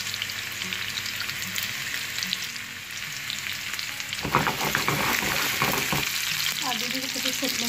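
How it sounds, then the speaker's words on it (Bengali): Four dried red chillies dropped into hot mustard oil for a final tempering, giving a steady close sizzle that swells into a louder crackling burst with some stirring clatter. "চারটা শুকনো মরিচ দিয়ে দিছি।"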